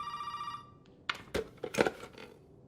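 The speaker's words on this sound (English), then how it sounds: "you're going to get a phone call from Zoe who claims that she actually wants to help you" An in-game telephone rings in the survival horror game Resident Evil 7, a steady electronic trill at the start that cuts off and gives way to scattered clicks and thuds.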